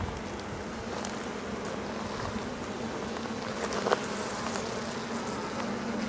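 Honeybees from a feral hive during a bee rescue buzz in a continuous, even drone, close and moderately loud, with a faint background hum and no talking.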